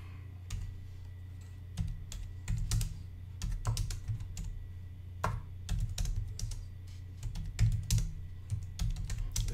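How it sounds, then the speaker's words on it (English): Someone types on an iClever Bluetooth keyboard in irregular bursts of crisp key clicks with short pauses. The sound is close and quiet, with no voices. "I'm going to type this with the keyboard"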